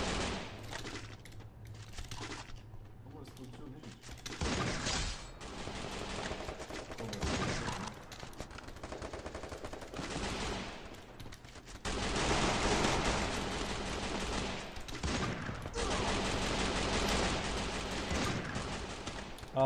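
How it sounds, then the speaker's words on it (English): Gunfire from a player shooting in a video game: long bursts of rapid automatic fire come in several waves and grow denser and louder toward the end, with brief gaps between the volleys. "Oh my god, how bad I'm shooting."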